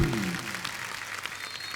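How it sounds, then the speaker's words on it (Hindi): Studio audience applause at a comedy talk show breaks out right after a brief voice in Hindi, a rippling spatter of clapping that stays moderate and gradually thins. "कॉन्फिडेंस के लिए तो तालियां बनती हैं।"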